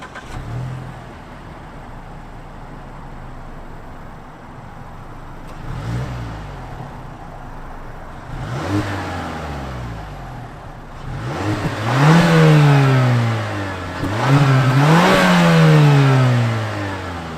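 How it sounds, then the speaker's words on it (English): A 2024 Mazda 3 Turbo AWD idles, then revs several times, each rev climbing higher and louder before falling back, the exhaust rumbling close by. "I want to hear what the actual exhaust sounds like"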